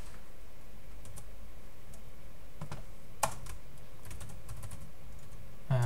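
Keys on a computer keyboard are typed in quick, irregular bursts of close, crisp clicks, with one sharper tap near the middle and a knock at the end, and no speech.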